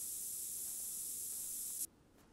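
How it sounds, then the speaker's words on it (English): Scent-masking spray in the hunting game theHunter: Call of the Wild gives a steady, quiet aerosol hiss lasting nearly two seconds before stopping sharply, followed by faint background ambience. "I guess we should spray ourselves with that stuff."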